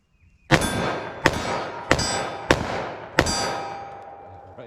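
Five sharp, loud .357 Magnum handgun shots from a Smith & Wesson revolver, fired at a steady pace less than a second apart, each with a bright ringing crack and a lingering decay, with no talk over them.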